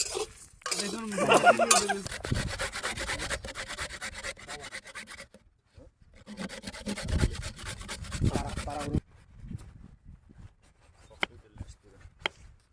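Dry red chillies are stirred while roasting in a pan, giving close, rough scraping and rubbing strokes in bursts with short pauses, then a few faint clicks.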